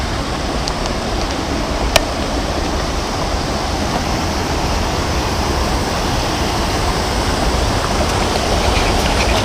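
A mountain creek at a backpacking crossing in the Hells Canyon Wilderness rushes in a steady, broadband wash close by, loud and unbroken, with one brief click partway through.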